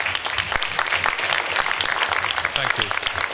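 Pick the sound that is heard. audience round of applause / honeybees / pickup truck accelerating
audience round of applause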